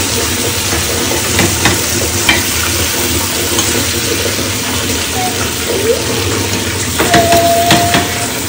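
Pieces of fish fry in a pan at a nearby market setting, a continuous loud sizzle with occasional clinks and stirring sounds, and faint voices in the background.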